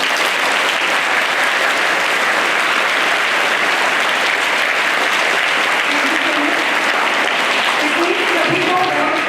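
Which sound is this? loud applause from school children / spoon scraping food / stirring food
loud applause from school children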